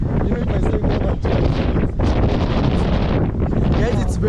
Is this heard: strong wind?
yes